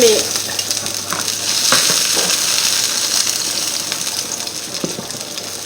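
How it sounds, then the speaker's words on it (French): Chopped onion sizzles and fries steadily in a pan, a continuous close crackling hiss with occasional stirring scrapes, no voices. "fait revenir notre oignon"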